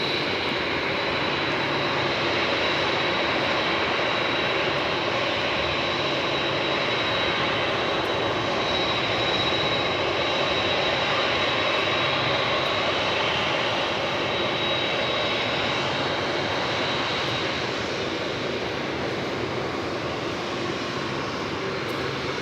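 Jet airliner taxiing at LAX, a steady, loud engine whine and roar holding constant throughout with a thin high tone on top, no talk.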